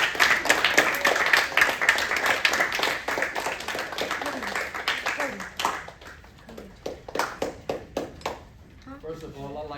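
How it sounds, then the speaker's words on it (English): A school audience gives a speaker a round of applause, loud dense clapping for several seconds that thins into scattered individual claps, with speech entering as it dies away. "we're gonna give him a warm round of applause"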